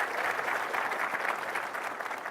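An audience at a tech conference session applauds, a steady wash of clapping that holds for a couple of seconds and then begins to fade.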